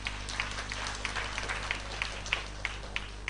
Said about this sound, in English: Let's give them big applause.